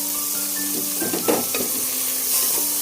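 Fifteen green chilies, chopped onion, bay leaves, cinnamon, cloves and cardamom frying together in a pot for chicken khichuri, loud continuous sizzle with a few close stirring scrapes and clinks in the middle.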